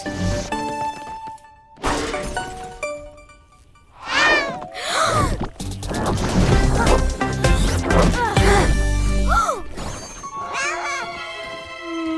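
A cartoon cat from an animated Action Pack episode dubbed in French meows several times among crashes, thuds and a busy soundtrack, with voices talking over parts of it.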